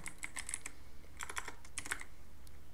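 Fingers tap briskly on a computer keyboard, close and clear, in quick clustered bursts of clicky keystrokes with a short pause in the middle.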